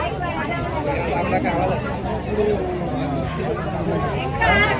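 Steady crowd hubbub at a village fair (jatra) with food stalls, a dense murmur of many voices, with a nearby person talking over it throughout.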